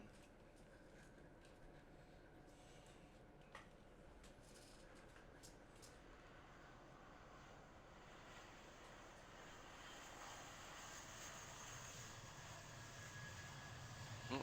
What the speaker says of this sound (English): Here comes the plane.